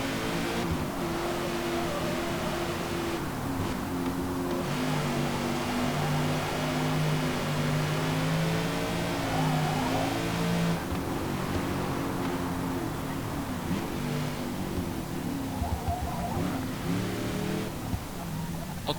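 A powerful Aussie classic car accelerates in Forza Motorsport, its engine drone climbing steadily through the gears, loud and continuous for the whole stretch with no talking.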